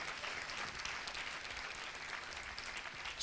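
Church congregation applauding to acclaim the Lord during a sermon, steady dense clapping throughout at moderate distance, with no speech over it.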